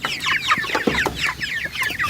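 Several chickens cluck and chatter busily at feeding time, a dense overlapping flock close by with short sharp calls throughout.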